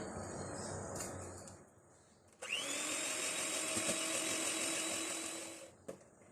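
An electric hand beater whirs steadily through butter and sugar for almond fudge cookie dough, starting abruptly after quieter kitchen clatter and running loud and even for several seconds before stopping.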